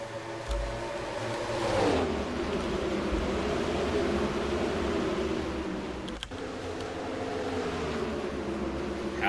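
Racing trucks in the NR2003 game's Casey's 200 at Iowa Speedway roar past as the green flag drops, a loud continuous engine drone that swells and sweeps by under steady noise.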